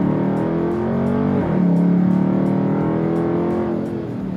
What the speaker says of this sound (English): you can do a lot of burnouts in this thing.